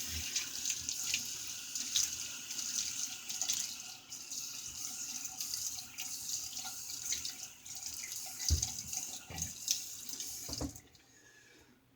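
Tap water runs steadily from a faucet into a sink for wetting the face before a shave, a close, continuous splashing stream that cuts off near the end, leaving quiet.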